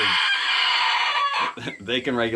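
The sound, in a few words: young chickens clucking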